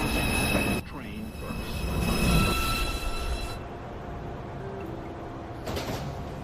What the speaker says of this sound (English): Express 2 train. Approaching the station, please stand away from the platform edge.